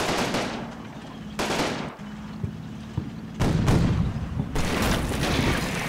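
Sustained automatic weapon fire from a machine gun in the WWII tactical game Combat Mission: Battle for Normandy, dense rattling bursts with booming impacts and louder volleys near the end, no talk.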